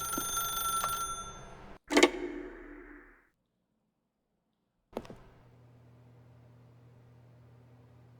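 A telephone rings in the video game The Stanley Parable, a bright electronic ring over a low ambient hum, then an abrupt silence before a single sharp click or thump and a quiet hum returns.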